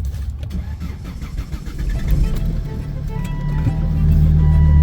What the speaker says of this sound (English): The engine is started.